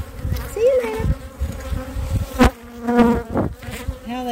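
Honeybees at an open hive during an inspection, a loud, close, continuous buzz with individual bees droning past and shifting in pitch.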